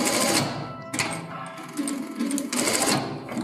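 Sewing machine stitching the securing seam on women's trousers, running in bursts of rapid rhythmic needle clatter that stop and start, close and fairly loud, with no talk.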